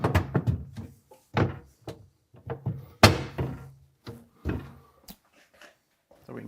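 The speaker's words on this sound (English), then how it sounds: "So we can close up our doors." Samsung refrigerator doors shut with a series of dull thunks and knocks, one heavier slam near the middle, spaced irregularly and close by with little else around them.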